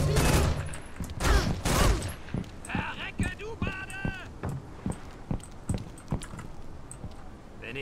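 Rapid gunfire in the stealth video game Velvet Assassin, in a cathedral level, with shots aimed at oil pools to set enemies ablaze: a dense burst of loud overlapping shots, then sparser single reports spaced through the rest, with brief voice-like game sounds between.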